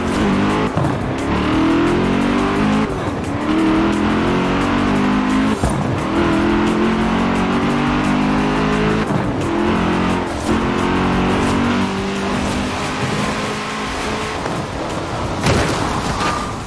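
A 2012 Hennessey Venom supercar in Forza Horizon 4 roars loudly and continuously, its engine revving up and down through repeated gear shifts during a high-speed motorway run, with no talking.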